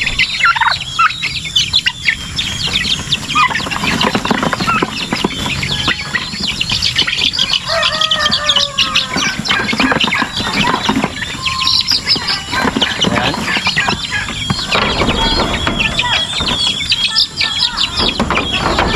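A flock of chickens clucks and chirps continuously, with a turkey gobbling among them, loud and close.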